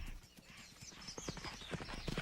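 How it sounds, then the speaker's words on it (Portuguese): Horses at play, hooves clip-clopping in quick, uneven bursts of hoof strikes that build and grow louder toward the end, with a soft whinny mixed in and no talking. "Mesmo cavalos maduros expressam um lado brincalhão."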